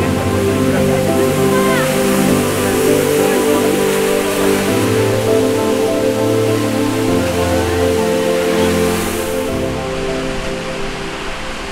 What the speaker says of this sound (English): we are at this waterfall, this beautiful waterfall by the roadside